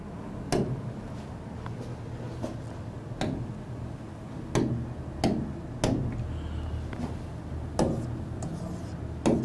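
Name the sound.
rubbing out writing on a board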